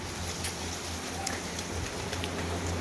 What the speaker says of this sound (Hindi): देखो यार बारिश का मज़ा कितना अच्छा है।